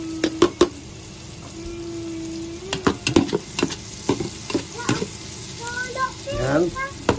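Garlic sautéing in a pan with onions for Filipino sopas: a steady soft sizzle with sharp clinks and scrapes of a utensil stirring against the pan, plus occasional brief voice sounds.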